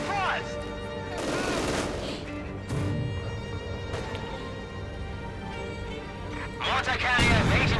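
Company of Heroes 2 battle with mortar and gunfire, rattling volleys and bursts surging loudest near the start and end, under continuous excited casting talk.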